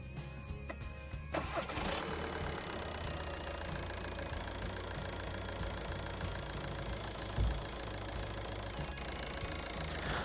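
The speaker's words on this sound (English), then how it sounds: "we're going to try to start the engine" A 2008 VW Passat 1.9 TDI diesel engine cranks briefly, catches, and settles into a steady rumbling idle with a knocking, clattering tone, close by.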